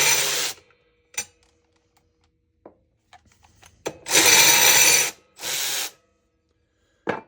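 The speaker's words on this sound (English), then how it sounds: "Using this new Ratchet. Love it. Awesome Ratchet." A ratchet wrench clicks in short bursts while working on a floor jack, several loud, close ratcheting runs separated by quiet pauses and a few light knocks.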